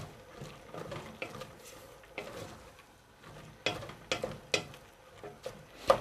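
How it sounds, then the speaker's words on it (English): Beef stew stirred in a pot, with irregular scraping and clinking taps of the spoon against the pot, moderately close and fairly quiet, with no talking. "I'll just give it 1 stir"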